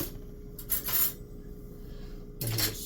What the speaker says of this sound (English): There's a spoon, as spoons are popular when dealing with soup.